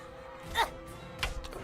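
A cat in the South Park role-playing video game yelps with two short, faint, high meow-like cries about half a second apart as it is struck, over a quiet game background.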